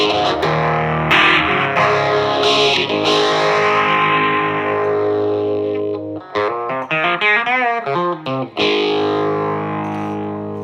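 Electric guitar run through a Donner Pearl Tremor pedal with distortion added, sustained gritty chords ringing with swelling, wavering tremor, then a burst of faster picked notes before a final held chord, loud and alone without talk.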